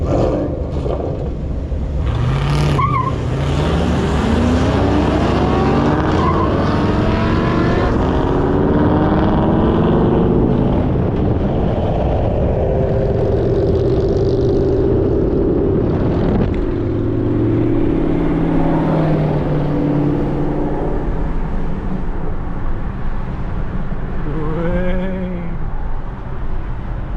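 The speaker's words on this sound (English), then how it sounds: "He's gonna try to power brake it and race the Mustang." A Ford Mustang being power braked and revved at a race, its engine roaring loudly and continuously with rising and falling revs, nearby and steady throughout.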